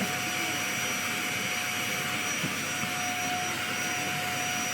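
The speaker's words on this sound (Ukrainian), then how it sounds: "Хоче допомагати пилососити." A vacuum cleaner runs loud and close with a constant whooshing roar and a thin high whine, unbroken throughout.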